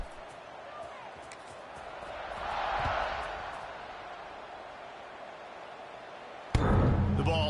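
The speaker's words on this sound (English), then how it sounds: "this crowd is buzzing after that last score" A stadium crowd in the College Football 26 video game buzzes steadily at a distance. The roar swells briefly, then settles, and a sharper burst of noise comes in near the end.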